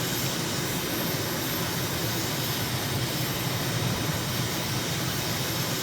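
A jet airliner takes off and climbs in a flight simulator game at Tashkent, a constant dense roar of engine noise holding steady throughout with no talk.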